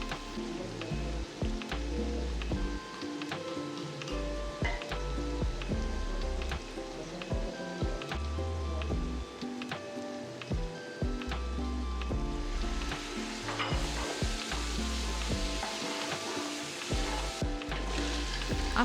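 Spices including red chili, garam masala, chicken powder and chat masala sizzle and fry in a pan for chana pulao, a steady close crackle with the scrape of stirring throughout and no talking.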